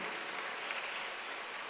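A church congregation breaks into continuous applause, a dense, even wash of many hands clapping at a sermon, steady throughout with no voices on top.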